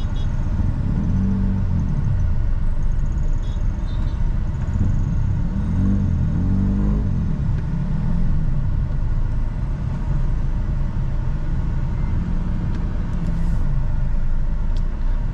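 Steady road traffic rumble heard from inside a Hyundai Accent CRDi with a manual gearbox, a continuous low drone with passing vehicle swells, moderately loud throughout with no talking.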